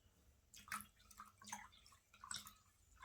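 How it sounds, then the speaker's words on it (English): Water poured into a half-full paint container to thin paint into a wash, heard as faint trickling and dripping bursts in short splashy pulses, quiet and close with no talk. "Now I'm going to add water to make it a wash."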